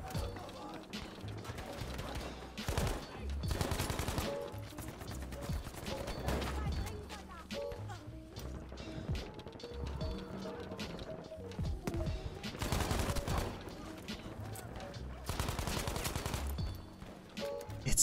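Gunfire from a sniper-focused shooter video game, with repeated sharp shots and bursts coming in clusters across the stretch, mixed with other game sounds and someone talking over it.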